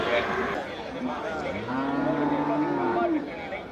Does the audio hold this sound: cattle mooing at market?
yes